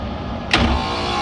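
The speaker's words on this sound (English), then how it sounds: "Compressor on." A Munters DHU dehumidifier compressor kicks on with a sudden burst partway through, settling into a steady running hum after a quieter mechanical drone, no voices.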